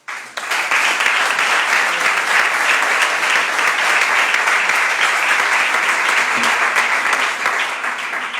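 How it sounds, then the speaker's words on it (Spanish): A conference audience at a cultural event on the Atlético Los Barrios football club claps warmly for an honored guest, dense sustained applause that swells quickly and holds steady for several seconds, loud and close, with no clear talk over it. "para el que os pido un cariñoso aplauso"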